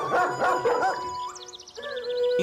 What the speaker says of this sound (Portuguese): O cachorro é para segurança, Hailu?